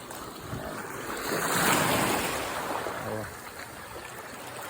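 Broad washing surf swells and recedes, with a rolling roar of waves close by and some wind; a faint voice murmurs briefly underneath.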